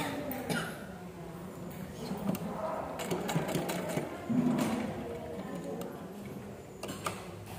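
A sewing machine stitches a kids' langa jacket, its needle whirring in a steady, fairly quiet run with a light ticking rhythm and no talk over it.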